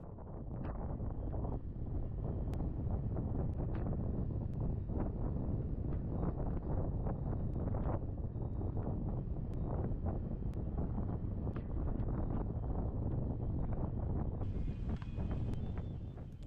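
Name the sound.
strong wind blowing on the microphone while foil windsurfing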